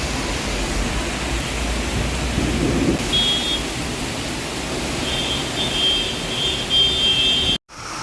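Thunderstorm with rain over Kukatpally in Hyderabad, heard as a steady broadband wash of heavy rainfall with a low rumbling swell of thunder partway through and a brief dropout near the end.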